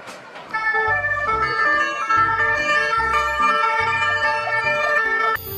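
A toy fire engine siren wails in a steady electronic two-tone pattern, close and loud, with a thumping beat underneath, no talking.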